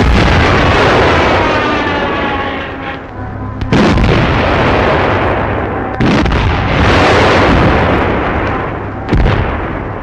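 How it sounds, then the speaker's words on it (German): Artillery shells and Stuka dive-bomber attacks pound positions on the World War II Eastern Front, a continuous loud roar of heavy explosions with repeated sharp blasts standing out across ten seconds. "Anderer Stuka-Geschwader und die Granaten unserer Artillerie zertrommeln die Auffangstellungen der Bolschewiken."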